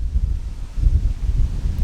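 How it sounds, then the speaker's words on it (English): Gusty wind buffets the microphone in low, rumbling waves above the treetops shortly after sunrise, rising and falling steadily with a faint rustle behind it. "it's cold and windy up here above the trees"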